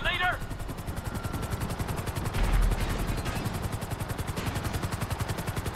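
A helicopter's rotor thumps in a steady, rapid pulse close by in Grand Theft Auto V, with bursts of gunfire crackling over it and a brief rising electronic tone at the start.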